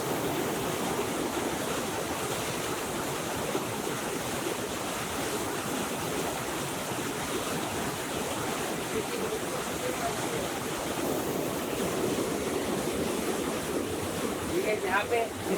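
A forest stream flows steadily with a continuous broadband rush of water, close and even throughout, with no voices.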